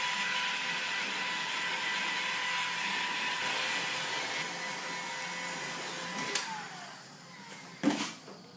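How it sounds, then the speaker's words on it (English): A heat gun blows hot air steadily near nylon Techflex sleeving on wiring, a loud close whirring rush that winds down toward the end, with a couple of sharp knocks as it is set down. "keep the heat gun kind of away from the Techflex because it is nylon, so you can melt it"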